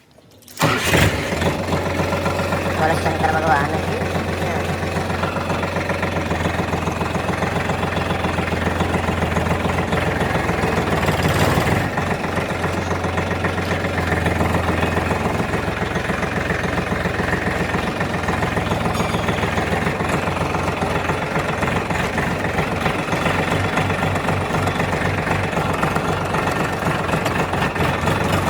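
A tractor engine catches and settles into a loud, steady idle close by, running unbroken throughout with a deep, rumbling chug, while a voice calls out briefly over it.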